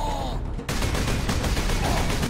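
Ork gunners firing at players from all sides in Space Marine 2, a dense, loud fusillade of rapid gunfire crackling continuously over a brief tonal game sound at the start.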